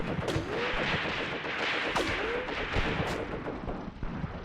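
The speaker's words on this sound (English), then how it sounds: "Ooh, these shots are close." Gunfire from the tank battle game Graviteam Tactics: Mius Front crackles in scattered distant shots and a few sharper reports, over a dense rumbling battlefield background.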